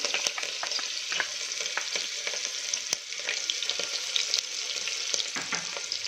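Long-cut green chillies and chopped garlic fry in hot oil for a chhole pulao, giving a continuous close sizzle with crackling pops and occasional stirring knocks, with no voices.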